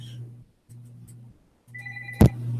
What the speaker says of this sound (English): We're taking a phone call right now.